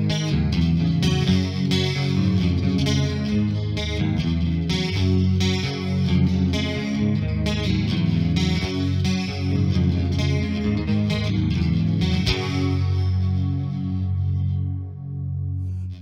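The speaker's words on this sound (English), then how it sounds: "it immediately goes into this reverby chorusy arpeggiated riff" Electric guitar plays a reverb-drenched, chorus-laden arpeggiated riff from a rock song, steady and loud throughout, with the notes ringing out and decaying near the end.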